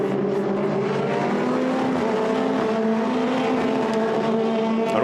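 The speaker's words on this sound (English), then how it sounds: "Lawrence Herr still fighting as he heads into the braking zone." Formula Renault 2.0 race cars at Monza roar past in a loud, continuous high-revving engine drone, with steady harmonic whine throughout and no talk.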